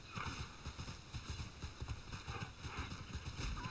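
A mount's hooves clip-clop in the video game TERA Online, an even, quick rhythm of hoofbeats set against a background of game music.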